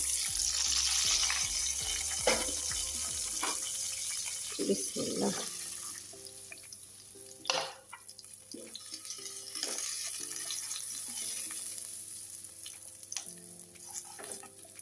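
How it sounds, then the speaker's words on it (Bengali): Semai vermicelli frying in ghee with a few cardamom pods, a steady close sizzle broken by scattered clinks and stirring scrapes, with faint talk in the background. "ঘি দিয়ে দিলাম একটা কয়েকটা এলাচ দিয়ে দিয়েছি শ্যামাগুলো একটু ভেজে নিই"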